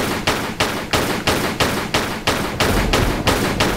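Rapid bursts of gunfire from a weapon in the Tomb Raider: The Last Revelation video game, about ten evenly spaced loud shots over a few seconds with no talking.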